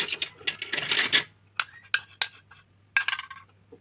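A metal spoon clinks and scrapes against a bowl while crepe batter is stirred and checked, giving a burst of quick close taps followed by a few separate sharp clinks.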